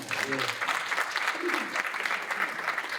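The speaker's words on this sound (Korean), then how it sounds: "우리 세 자녀분 훌륭하게 키우신 다시 한번 박수 드리겠습니다." Guests at the 2022 New Jersey Milal Thanksgiving dinner applaud; dense, continuous clapping fills the room, with a voice briefly audible near the start.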